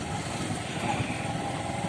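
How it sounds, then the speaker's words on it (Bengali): A motorcycle engine drones steadily on a rural village road, a moderately loud continuous hum with wind noise over it. "সামনে থেকে আবার বাইক আসছে"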